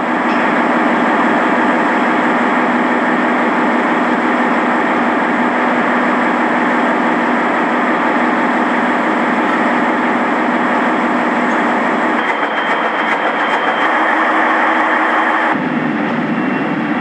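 Deep in a ship's hull, an 11,600 horsepower engine drones loudly and continuously, a dense steady roar that shifts slightly in tone near the end.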